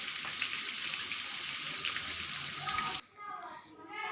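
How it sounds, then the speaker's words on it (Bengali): Chicken pieces frying in oil, giving off a steady bright hiss and sizzle that cuts out abruptly near the end, leaving quieter fainter sputtering. "ফ্রাই চিকেনগুলো ফ্রাই হয়ে যাবে এখন"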